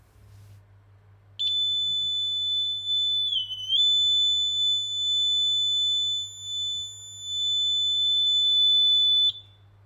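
A small electronic buzzer wired to a battery through a resistor lets out a steady, shrill, high-pitched tone. It lasts about eight seconds, with a brief waver partway through, over a faint low hum.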